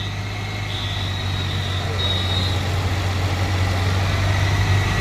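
A Maruti Omni van engine with a heating and coolant-loss problem runs as a close, steady low drone with a persistent hum. It swells slightly toward the end as the accelerator is pressed.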